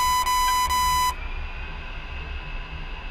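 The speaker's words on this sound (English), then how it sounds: "That beeping is the RWR. It detects radar signals from other aircraft, ground threats" Radar warning receiver in an A-10C flight simulator game gives a steady electronic tone broken by a few quick beeps, then cuts off, leaving a low cockpit hum.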